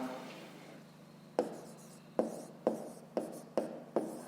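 Writing out a point's coordinates for a fifth-grade maths exercise: faint scratching, then six evenly spaced sharp taps of strokes, close and quiet, with no talk.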